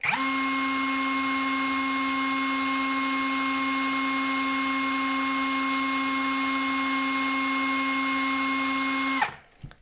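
A cordless brushless drill-driver in screwdriver mode whirs steadily at first speed with a bright tonal whine, running alone for several seconds before abruptly stopping.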